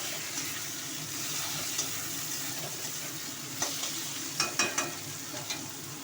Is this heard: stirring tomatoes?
yes